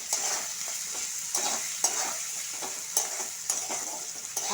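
Chopped onion and tomato pieces fry in a pan for chicken muithha, a soft continuous sizzle broken by regular scrapes of a spoon stirring, close and moderately loud, with no talking.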